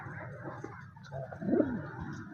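Teddy pigeons, a pair kept by a breeder, give a soft low cooing that swells briefly in the middle and then settles against a steady murmur of background noise.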